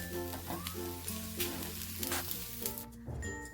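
Close, continuous sizzling of spices roasting in a pan, with occasional louder crackles and steady tones playing underneath.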